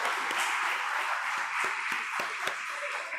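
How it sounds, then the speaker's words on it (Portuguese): A church congregation claps loudly and steadily during a Christian worship service, a continuous wash of hands with a few sharper individual claps standing out near and clear. "Uma salva de palmas bem forte para o Senhor."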